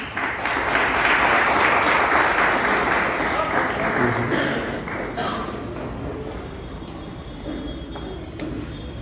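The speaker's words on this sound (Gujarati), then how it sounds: "આપણે ફરી એકવાર તાળીના ગડગડાટથી તેમને વધાવીએ" An audience at the UJAS Award 2020 ceremony at Mahida Bhavan, Surat, applauds as a journalist comes up to receive his award. Loud, dense clapping fills the hall, then gradually thins and fades toward the end.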